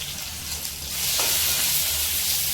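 Banana kofta mixture with ginger, garlic and onion frying in a pan, a steady close sizzle that swells louder partway through and then holds, with no talking.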